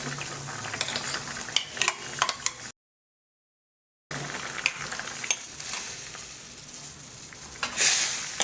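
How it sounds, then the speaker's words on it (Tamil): A pan of tamarind-based Iru Puli Kuzhambu curry sizzles and bubbles as a spoon scrapes and stirs through the thick liquid, with a short gap of silence midway. "புளி கரைசல் தண்ணியோட அந்த பச்சை வாடை போகட்டும், நல்லா கொதிக்கட்டும்."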